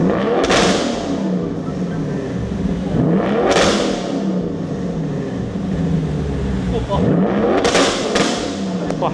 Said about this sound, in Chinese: 我们来听一下它的 start 车声音是怎么样。